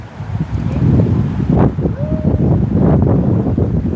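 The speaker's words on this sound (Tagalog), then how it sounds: "Very windy." Strong wind gusting outdoors among flowers, a steady loud roar buffeting the microphone for the whole stretch with rustling and brief faint sounds under it.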